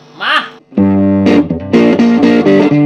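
A short burst of voice, then a clean, slightly overdriven electric guitar plays several chords and notes through a Fender Champion 100 amp on its tweed Champ voicing, warm and bright, fairly loud.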